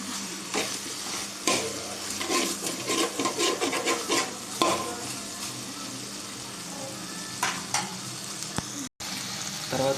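Okra cooking in oil for a tamarind pulusu is stirred in a pan, giving uneven scraping and sizzling strokes over a steady frying hiss, with a brief silent drop near the end.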